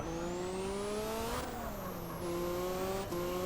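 A car in GTA San Andreas accelerating away from a traffic light, the engine revving up steadily through the gears, loud and close with a brief shift dip in the middle.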